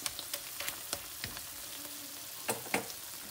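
Pork fries in an Aldi cast iron pan with a soft, continuous sizzle and scattered crackling pops, faint and close by, with no voices.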